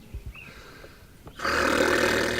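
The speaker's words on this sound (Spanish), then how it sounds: "Y así suena el guayquil. El guayquil ronca." A guayquil fish snoring, a short series of low grunting bursts followed by a loud, sustained rough rasping roar that continues to the end.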